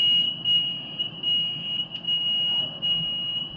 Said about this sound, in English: So warning, the alarm might be loud.